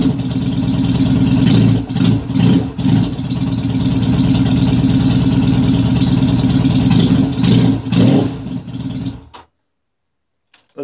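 A cold engine idles with the choke pushed down, giving a loud, steady low rumble that wavers a little before cutting out into silence near the end.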